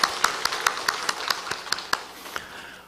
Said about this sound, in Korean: 우리 한 박수 한번 할까요?